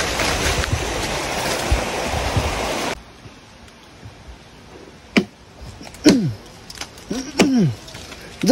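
A flowing river stream rushes loudly and steadily for the first few seconds, then cuts away to a quieter scene where voices talk over faint background noise.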